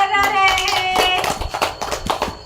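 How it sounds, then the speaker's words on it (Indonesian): A class of students clapping hands in a classroom. Irregular claps ring out close and fairly loud after a brief sung or voiced tone at the start. "yang lain tepuk tangan"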